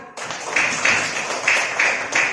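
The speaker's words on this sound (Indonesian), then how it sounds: "Nah, tepuk tangan dulu ya." A classroom of students gives a round of clapping after a group presentation, with dense, rhythmic claps and a few louder bursts that recur steadily across the short stretch.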